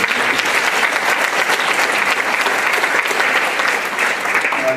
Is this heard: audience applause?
yes